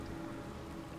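Steady soft rain falls in the side-scrolling game Kingdom, a faint, even hiss of drops with no breaks and no talk over it.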